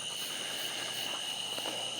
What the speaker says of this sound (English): And you can hear all the tree frogs. I hope you can hear them.